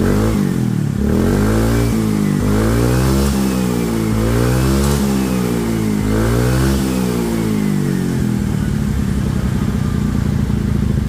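A Suzuki Sky Wave 125 scooter with a stainless steel racing exhaust revs hard several times in a row, the exhaust climbing and dropping in pitch, loud and close, then settling into a rough idle.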